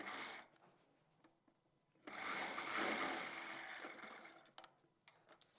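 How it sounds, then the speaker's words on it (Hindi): A sewing machine stitches a velvet chudidar pajama seam, a quiet close whirring run of about two and a half seconds between softer fabric handling and ticks. "इसके ऊपर बूट की सिलाई लगाएंगे।"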